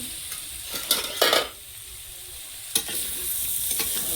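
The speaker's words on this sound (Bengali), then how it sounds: "পেঁয়াজ দিয়ে যে কষাচ্ছি" Onions sautéing in a pan for a semolina upma, a low steady sizzle broken by a few sharp scraping stirs of a spoon against the pan near the start and again later.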